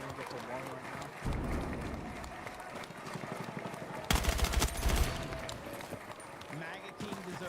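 Bursts of automatic gunfire in the Battlefield 6 video game, including SMG fire, crackle over hurried footsteps, with a louder, denser volley in the middle and a voice talking across it.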